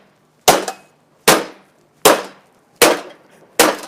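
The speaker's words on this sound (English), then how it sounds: "So therefore we'll take kind of like the pedal wrench to it" A metal pedal wrench smashes into a carbon fiber bike part, five loud, sharp cracking blows at a steady, deliberate pace, each ringing briefly before fading. The blows are close, with no voices.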